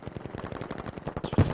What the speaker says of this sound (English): ran into a wall of gunfire there